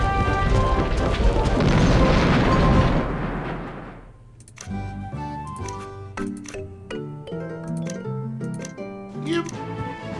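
Cannon fire and explosions roar in the naval combat of the video game Sid Meier's Pirates!, a loud rumbling blast that fades out after about four seconds, followed by tinkling game music.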